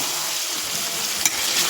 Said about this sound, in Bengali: এভাবেই কষতে থাকতে হবে, কষাতে কষাতেই এর স্বাদটা আসবে।